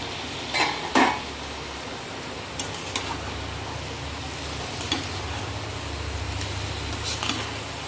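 Masala-coated crab sticks are flipped in a hot frying pan, giving a steady close sizzle with a few sharp utensil clinks against the pan and no talking.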